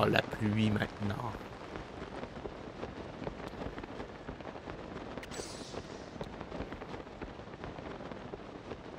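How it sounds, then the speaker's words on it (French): Rain falling in the Zelda Tears of the Kingdom video game, a steady moderate hiss of drops across the whole stretch, with a louder burst at the start. "Oh, la pluie maintenant."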